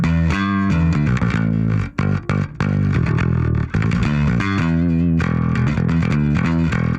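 Electric bass played through the Easy Mix 2 Rock Bass preset with all knobs turned down, a loud, dense, slightly distorted rock tone with steady notes and brief gaps, alone with no talking.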